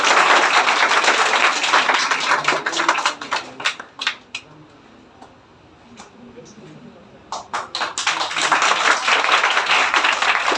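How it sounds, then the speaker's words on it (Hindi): Audience at a ceremony honouring 2021-2022 student toppers gives a burst of loud clapping that fades into quiet, then swells into fresh applause toward the end. "मनी के लिए भी जोरदार तालियां"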